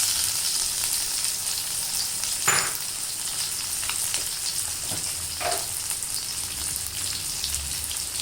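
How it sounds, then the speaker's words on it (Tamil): Chopped onions frying in sesame oil with bay leaves, cloves and fennel for a spicy mutton dish, a steady close sizzle with a few soft stirring scrapes. "லைட் ப்ரௌன் கலர் ஆகிற வரைக்கும் நல்லா வதக்கிக்கலாம்"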